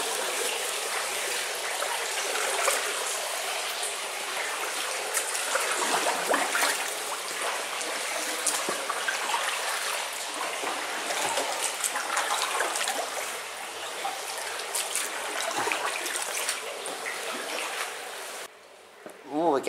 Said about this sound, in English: Definitely something draining somewhere, I can hear it.